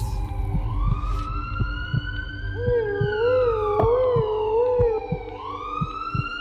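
An ambulance siren wails steadily and loudly, its pitch sweeping up and down, with a lower warbling tone joining partway through and faint thumps underneath.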